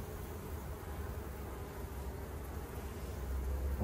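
Honeybees fill a hive holding nine seams of bees with a dense, steady buzzing drone, close and continuous throughout, with no talking.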